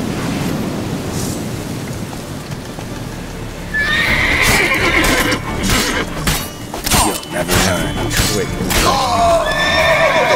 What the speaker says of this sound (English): Oh, the horse is attacking me too.